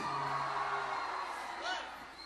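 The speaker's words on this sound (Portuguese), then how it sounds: "Mais alta, uma vaia mais alta." Audience at an outdoor pagode show by É Xeke in Cansanção, Bahia, holding a loud massed vocal noise like booing that swells briefly near the end, then begins to fade.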